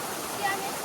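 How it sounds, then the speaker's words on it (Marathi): A small waterfall on a farm, heard as a steady close rush of falling water, with a voice speaking briefly over it. "आता आम्ही आलोय छोट्या वॉटरफॉल कडे शेताचे"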